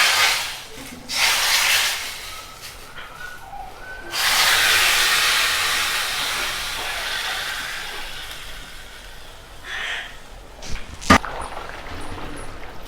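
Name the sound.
tadka tempering poured onto potato curry, sizzling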